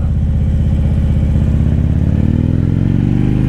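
A Harley-Davidson Street motorcycle engine runs loud and close, its steady lumpy idle climbing into a rising rev near the end, with no talking.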